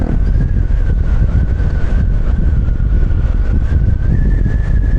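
Loud, constant roaring rush of strong wind buffeting the microphone on a Fortress 160 motorcycle during a city night ride, with a steady engine drone underneath and no talking.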